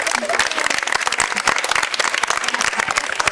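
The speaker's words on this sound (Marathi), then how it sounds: "जोरदार टाळ्या आलं पाहिजे" Loud, dense applause from a crowd at a Ganesh festival mandal gathering in CIDCO, rapid overlapping claps sustained throughout at close range.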